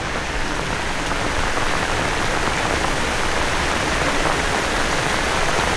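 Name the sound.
heavy rain falling on an ampalaya farm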